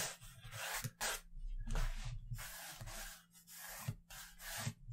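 Freehand crosshair lines drawn on paper: about half a dozen quick, close scratchy strokes come in separate bursts, with short pauses between them.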